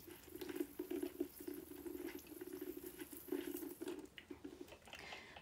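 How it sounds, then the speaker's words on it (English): Running tap water rinsing a small cup at a sink, a steady patter and splash that shifts as the cup moves under the stream, continuous and fairly close. "I'm gonna rinse this little cup off as well."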